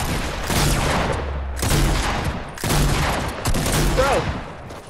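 Shotgun blasts in a Fortnite duos battle royale match, four loud close booms spaced about a second apart, each trailing into a short decay.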